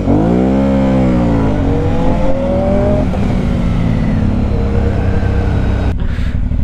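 A Suzuki GSX-S 750 sport motorcycle engine revs up loud and close, its pitch rising then falling back to a rough idle, with wind and road noise around it.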